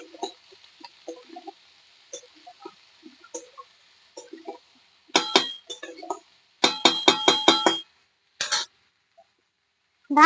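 Metal lid set onto a frying pan of ridge gourd with onion, giving several bright clinks and rattles in short bursts, close and fairly loud, over a faint sizzle.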